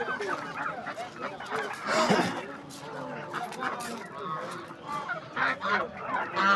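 Ducks and other fowl honk and quack in a busy poultry market in Andijan, Uzbekistan, mixed with people talking nearby.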